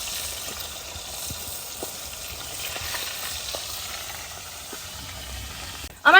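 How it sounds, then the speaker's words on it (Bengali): Rupchanda fish fry in hot oil in a pan while being flipped, giving a steady soft sizzle with faint crackles and a brief loud clatter at the very end. "এখানে আমার মাছটা ভালোভাবে ভাজা হয়ে গেছে এক পিঠ, তাই আমি মাছগুলোকে উল্টে নিচ্ছি"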